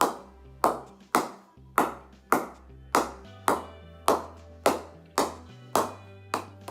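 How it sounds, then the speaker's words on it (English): Sharp, evenly spaced knocks of a cricket ball against a new cricket bat during knocking-in, about twelve crisp wooden taps roughly half a second apart, close and clear with short ringing decay, no talking. "Once you knock the bats first time"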